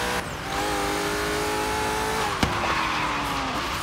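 A car in Forza Horizon 3 holds a steady, loud engine tone as it runs down a Hot Wheels track descent, the pitch shifting slightly, with one sharp knock partway through.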